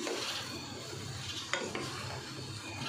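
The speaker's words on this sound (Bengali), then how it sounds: "টমেটোটা দেওয়ার পরও আমি এটাকে একটু নাড়াচাড়া দিয়ে নেব" Chicken vegetable curry with tomato being stirred in a pan, a faint soft sizzle with quiet scraping of a utensil and a couple of light clicks.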